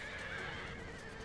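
A horse whinnies loudly and continuously amid a video game battle with cavalry fighting, a close sustained neigh over faint clattering hooves, no talking.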